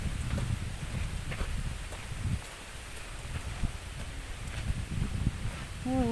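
Steady blustery wind rushing and buffeting the microphone, with rustling and faint voices underneath.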